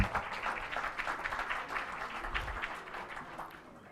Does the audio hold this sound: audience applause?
yes